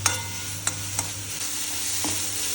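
Onions, tomatoes and chillies frying with salt in a pan for upma, a steady hiss of sizzling oil with a few sharp clicks of a spoon stirring, close and clear with no talk.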